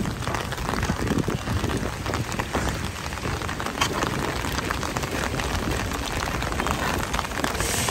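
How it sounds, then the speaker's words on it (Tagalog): Heavy rain pours steadily at the Manila Baywalk seawall, a dense, continuous hiss of drops striking surfaces at constant loudness throughout, with no voices. "bumuhos na yung ulan."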